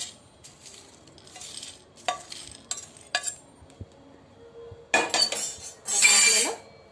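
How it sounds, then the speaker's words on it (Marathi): Whole spices and a bay leaf dry roasted in a pan, heard as scraping, clinking stirs with a utensil against the metal and a light dry sizzle, growing louder toward the end in a home kitchen. "आपले खडे मसाले पण छान भाजले गेलेले आहेत"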